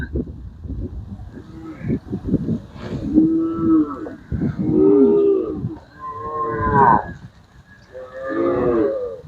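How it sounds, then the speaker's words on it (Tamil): A herd of cattle from a large pen of about 600 cows in Jaffna moo as they move off to graze, with several long, loud, overlapping lowing calls close by and a brief murmur. "மாடுகள் எல்லாமே அப்படியே மேய்ஞ்சு கொண்டு அடுத்தடுத்த ஊருக்கு நோக்கி போகுது"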